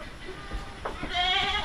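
Goats on a farm bleat a few times, close and moderately loud, with one drawn-out bleat near the end over light background noise.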